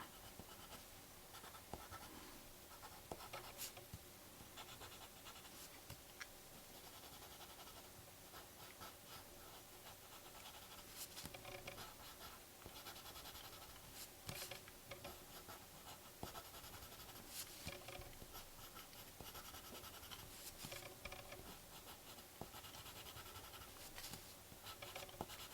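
Pencil scratching across paper in steady strokes, swapped in from a watercolor pencil to an ordinary drawing pencil, a soft continuous scratch with small taps and rustles at close range, no voices.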